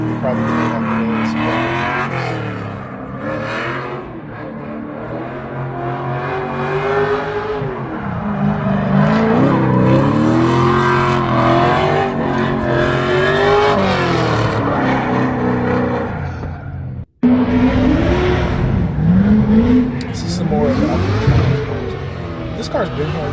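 Car engines rev hard in a drifting and burnout area at the SEMA 2025 show, rising and falling loudly in repeated pulls, with a brief cutoff near the end.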